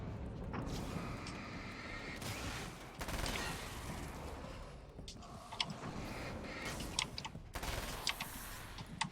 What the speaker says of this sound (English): I mean, it is a submachine gun, still.